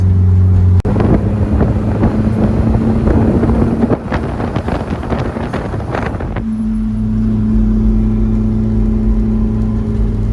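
A Nissan 240SX with an SR20 engine cruises along the Las Vegas Strip, its steady engine drone loud inside the cabin with wind rush and a shift in tone partway through, and no talking.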